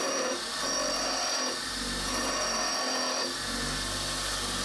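A steady, harsh whirring grind of a drill press reshaping a metal tool tip, continuous and close, with slight shifts in pitch as the tip is shaped.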